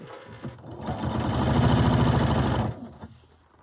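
A domestic sewing machine stitches a wool tunic in a single close, rapid buzzing run of about two seconds, with soft handling sounds before and after.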